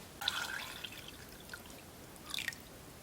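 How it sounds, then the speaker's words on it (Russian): Water poured into a pot for Hungarian bean soup with smoked brisket in a rural home kitchen, heard as two short splashy, dripping bursts with a quiet pause between them. "Сюда будем добавлять 2 литра воды."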